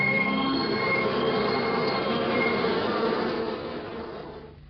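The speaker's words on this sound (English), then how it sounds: "the bees in this hive, and they're quiet and very good-natured" Calm, good-natured honeybees in a two-storey hive, a dense continuous buzzing hum heard up close that fades slightly toward the end.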